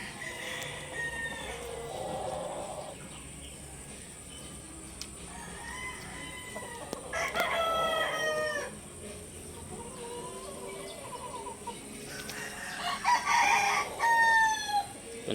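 Young roosters around six to seven months old crow in several overlapping, strained calls, with clucking and other fowl noises in between against a quiet farmyard background, some near and some farther off.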